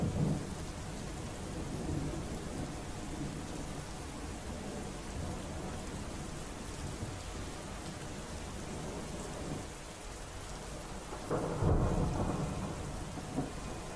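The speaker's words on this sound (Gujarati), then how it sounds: "હજુ પણ વરસાદ જે છે તે અમુક વિસ્તારો અમુક જિલ્લામાં જોવા મળી રહ્યો છે" Heavy rain and thunder from Cyclone Biparjoy: a dense, steady downpour with low rolling rumbles throughout, then a sharper, louder thunder burst near the end. No voices are heard.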